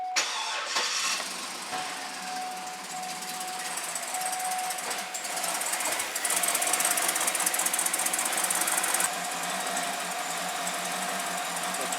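2008 Cadillac Escalade V8 idling rough after an engine rebuild, a hard start followed by an uneven knocking idle with a faint steady whine, heard up close.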